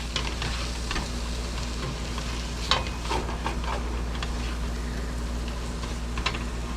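Garlic, two heaping spoonfuls, stirred around in a hot pan, giving a steady close sizzle with scattered scraping clicks of the spoon, alone without talk.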